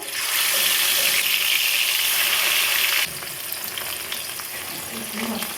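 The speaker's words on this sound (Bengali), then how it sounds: "মাছগুলো দিয়ে দিচ্ছি তেলটা গরম হয়ে গেছে" Loud, steady sizzling of hilsa fish frying in hot mustard oil in a wok, a dense crackling hiss that drops slightly in intensity partway through, with light clinks near the end.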